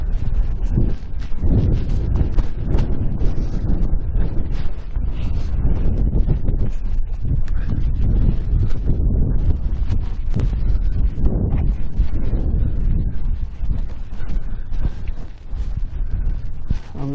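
Wind buffets a microphone on an open hilltop in the Yorkshire Dales, coming as loud, irregular low rumbling gusts that roar continuously for about seventeen seconds, with no voice heard.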